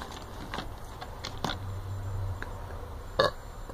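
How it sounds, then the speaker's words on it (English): A short burp sounds at low volume amid light clicks and ticks, alone with no talking. "Burp."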